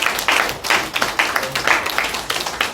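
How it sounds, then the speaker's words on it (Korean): A church congregation claps in encouragement for its youth group: a modest, uneven round of hands with individual claps audible as separate sharp pulses over nearly three seconds. "참 귀하게 수고해 주신 청년들께 우리 서로 좀 격려 박수할까요?"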